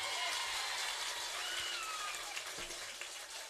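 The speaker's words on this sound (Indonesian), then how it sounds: "Tepuk tangan untuk kiai dan santri." An audience at an Islamic religious sermon gathering applauds for the kiai and students, a dense, sustained clapping that wavers slightly and tapers toward the end.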